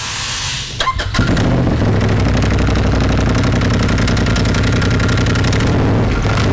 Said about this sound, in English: why don't you fire it up and show everybody that you can basically